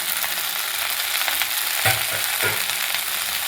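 Washed moringa leaves hit a very hot pan still greasy from earlier frying and are stirred: a steady bright sizzle with soft scraping strokes and a couple of louder stirs near the end. No speech.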